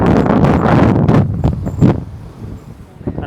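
Strong wind gusting at Rostock beach on the German coast, loud broadband buffeting against the microphone that rises and falls in bursts, heaviest in the first two seconds, then easing to a softer rush.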